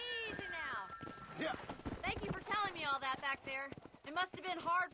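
Horse hooves clip-clop in Red Dead Redemption, a steady, fairly soft hoofbeat running under near-constant conversation between characters.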